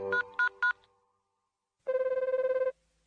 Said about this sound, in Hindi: फोन पर बेल तो जा रही है